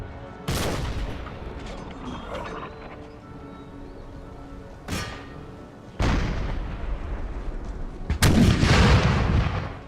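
Artillery cannons fire in Empire: Total War with an Empire 2 mod, a series of loud booming volleys at irregular intervals, the last salvo heaviest and crackling, over a steady battlefield rumble.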